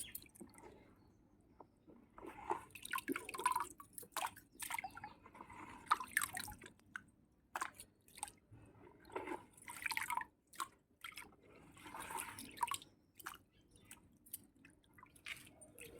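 Water drips and splashes quietly onto garden plant soil, the rinse water from washing harvested organic turmeric, as a scattered series of soft close drips with gaps between them.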